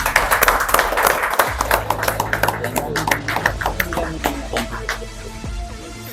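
A crowd at a leadership development program event claps in a burst of applause that tapers off, with voices talking over it.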